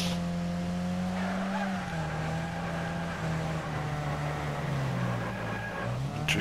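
A Robin Reliant drifts in Wreckfest on the Death Loop track, its engine droning steadily while the tyres squeal in a long, continuous skid that shifts pitch as the car slides.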